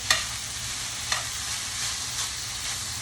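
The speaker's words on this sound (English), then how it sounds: "I'm just going to stir it around. And I will let it cook a little bit here." Creamy fried corn cooking in a skillet, a steady soft hissing sizzle with a few brief scrapes of stirring, close and moderate in level, no talk.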